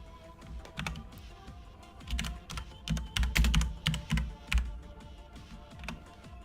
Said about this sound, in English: I was typing out the text